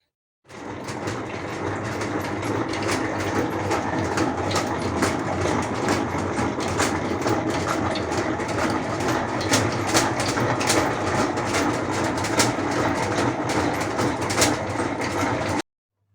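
A honey extractor spins frames of honeycomb, giving a continuous loud mechanical whir and rattle with faint rhythmic clicking, steady from start to finish.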